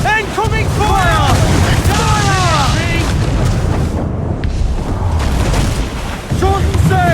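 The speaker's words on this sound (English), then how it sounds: "Caution, Edward! Incoming fire!" Cannon fire and naval battle noise aboard a sailing ship in Assassin's Creed IV: Black Flag, a continuous loud rumble of booms and wind with shouted voices over it throughout.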